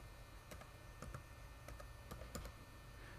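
Fingers tap out a quick, irregular run of keystrokes on a computer keyboard, faint clicks over a low steady hum in a quiet room.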